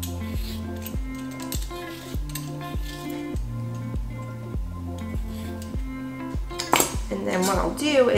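A knife chops a long English cucumber on a cutting board in a steady rhythm of about a dozen close, crisp knocks, ending in a louder clatter of kitchenware, with no voices.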